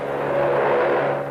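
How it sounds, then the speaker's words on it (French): A steady, droning engine hum holds at a loud, even level, like an aircraft drawing near. "C'est un avion!"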